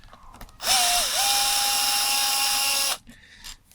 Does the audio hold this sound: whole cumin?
no